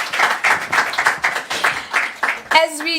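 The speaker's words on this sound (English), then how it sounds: "Might I ask for a big round of applause to my panelists, please?" A conference audience claps steadily for a panel, a rolling wash of applause that ends as a voice begins speaking.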